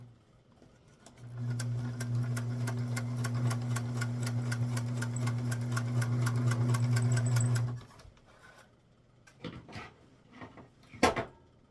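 A sewing machine stitches a child's apron in one steady, whirring run of rapid rhythmic stitching for about six seconds, then stops, followed by a few clicks and fabric-handling knocks close by.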